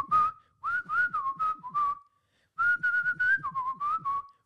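Someone whistles a melody nearby, two phrases of clear wavering notes separated by a short pause, with faint breathy sounds in between.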